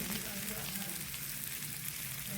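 A whole tilapia fries in a pan, prepared in a rustic village style. A steady, close sizzle of hot oil crackles throughout with no break.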